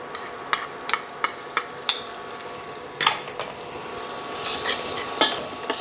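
Black beans and garlic fry on a stove in a pan, with a soft continuous sizzle broken by regular sharp taps and scrapes of a utensil against the pan, close-up and without talk.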